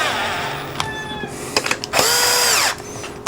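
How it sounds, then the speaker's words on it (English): Cordless impact driver running bolts into the rubber isolation mounts of a Yong Heng GX CS2 compressor. A few short close blips come first, then one sustained, loud whirring burst lasting under a second, with no talking. "when I use my handy impact to run them in"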